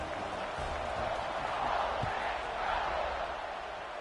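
A stadium crowd waits for a football kickoff, a broad, steady roar of many voices that swells slightly in the middle and stays loud throughout.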